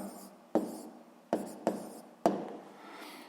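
A pen writing out an answer during a physics exercise, heard as four sharp strokes spaced unevenly, each fading into soft scratching, close and quiet with no talk.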